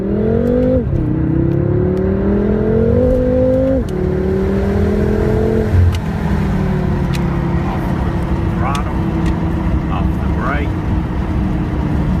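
A BMW M5 pulls hard in third gear on a driving-school track course, engine note climbing through close gear steps then settling into a sustained drone, heard from inside with an instructor talking over it.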